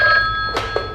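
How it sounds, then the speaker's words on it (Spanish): A telephone rings loudly and steadily with a sustained electronic bell tone, with a couple of brief knocks or clicks near the end. "Oye, está sonando el teléfono."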